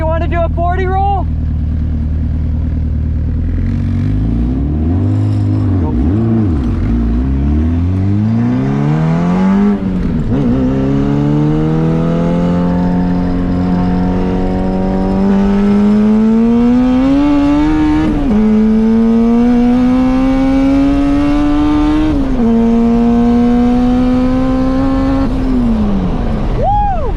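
A Chevrolet Camaro accelerates hard through its gears in a 40 roll race, the loud engine note climbing steadily and dropping at each shift, with people talking over it throughout.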